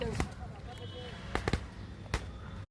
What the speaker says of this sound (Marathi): विसर्जनाला आराध्य फटाके फोडत होता